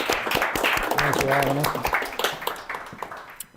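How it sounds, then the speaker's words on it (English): Scattered audience clapping for presenters Liz and Eric at the close of an accessibility livestream event, sparse claps popping beneath a nearby voice offering thanks. "One more round of applause for Liz and Eric"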